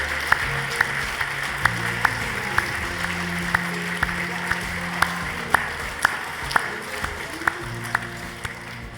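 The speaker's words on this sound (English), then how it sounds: "Round of applause for Graham Hill, please." Sparse, scattered handclaps ring out over a low murmur of voices, never building into full applause.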